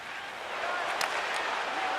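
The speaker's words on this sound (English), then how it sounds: "You can feel the energy in this crowd." Video game crowd noise in a hockey arena from NHL 25 during a tied game, a steady broad roar and applause that swells partway through and then holds. A few sharper bursts rise above it. No voices stand out.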